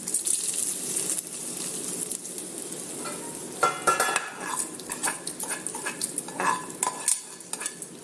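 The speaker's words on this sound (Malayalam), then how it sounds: "നന്നായിട്ട് മിക്സ് ചെയ്യാം" Papaya thoran being stirred in a pan, a light sizzle under repeated metal spatula scrapes and clinks against the pan, close and uneven in rhythm, with no voices.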